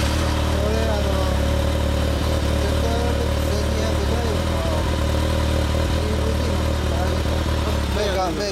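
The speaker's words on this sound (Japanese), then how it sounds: "エンジンを聞かせてもらえる？" A 2015 Kawasaki ZRX1200 DAEG with Power Ride custom work runs steadily up close, its engine giving a deep, constant idle rumble through the whole stretch, with faint voices in the background.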